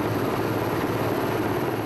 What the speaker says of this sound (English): Sitting on the edge of a Sea King helicopter and flying over the mountainous country